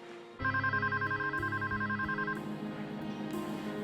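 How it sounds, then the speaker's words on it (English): A telephone ringing on the line after a number is dialed, a loud repeating electronic ring tone in even bursts that stops, leaving low line hiss. "the next thing I dialed was Howard's number. And believe it or not, he answered."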